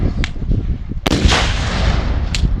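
Cannon fire at a US Civil War re-enactment: a loud, close blast booms out at about one second and rolls on through the rest of the clip, with a sharper crack near the end.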